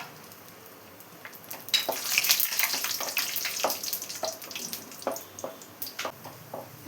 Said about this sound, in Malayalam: ഇതിലോട്ട് അണ്ടിപ്പരിപ്പും മുന്തിരിയും കൂടെ ചേർത്ത് ആദ്യം ഒന്ന് ഫ്രൈ ചെയ്തെടുക്കാം